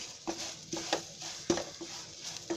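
A spoon stirring shevaiya upma with coriander in a pan, five or six distinct scraping, clinking strokes at an even rhythm, close and moderately quiet.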